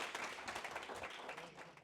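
An audience at an evening real estate investing talk breaks into a round of applause, dense and steady clapping heard from within the room for a brief burst.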